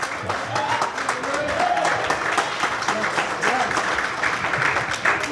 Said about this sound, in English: Another round of applause for Coach Oliver.